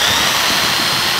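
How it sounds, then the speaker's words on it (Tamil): A steady, loud high-pitched whine of a power drill running continuously at close range. "இது ட்ரில்லிங் பண்ணுறதுக்கு யூஸ் பண்ணுவாங்க."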